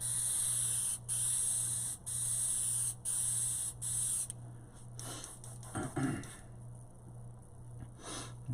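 An airbrush spraying House of Kolor automotive paint gives four bursts of bright hiss about a second apart over a low compressor hum, then stops, leaving scattered handling clicks and rustles.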